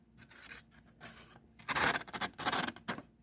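A Case Mini Trapper 6207W SS slip joint knife slicing through paper, giving short, close, dry scratchy rasps that swell louder in the second half, with no talking.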